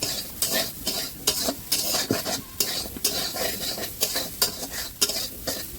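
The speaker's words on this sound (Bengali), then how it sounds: "এখন কিছুক্ষণ নেড়ে নেবে। এরপর হলুদ দিচ্ছি সয়াবিনের মধ্যে" A spoon stirs soybean chunks with turmeric and salt in a hot pan for a vegetarian curry. Rhythmic scraping strokes repeat close up over a soft, continuous sizzle.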